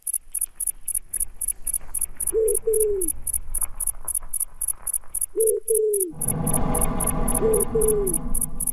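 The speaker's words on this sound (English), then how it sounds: "I like its little owl sound." Enemy creature in the video game Flashback giving short owl-like coos, three separate two-note calls spaced a few seconds apart over rhythmic game sound effects and music.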